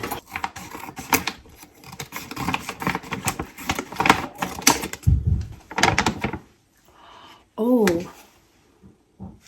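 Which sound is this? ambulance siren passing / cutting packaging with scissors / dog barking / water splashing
cutting packaging with scissors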